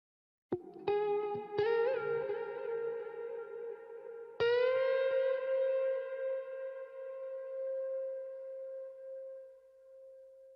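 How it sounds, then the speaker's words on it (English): Distorted crunch electric guitar loop strums a few chords, then lets a bent note ring out into a long, washy reverb tail. "After that, I added this crunch guitar, which sounds like this."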